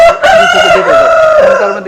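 Loud, close calls from Tiger breed chickens on a poultry farm, a rooster-like crow blending with steady clucking from several birds.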